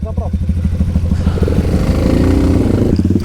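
Moped engine ridden along a motocross track, a continuous close buzzing drone with rising and falling revs that fills the whole stretch, with voices talking over it.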